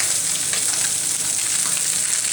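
Sea bream fish frying in hot oil, a steady, dense sizzle and crackle that holds close and loud throughout with no talk.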